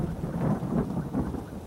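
Rumbling thunder rolls under a steady wash of heavy rain during a nighttime storm outside an apartment building, a continuous low roar with swelling peaks, fairly loud and close, with no voices.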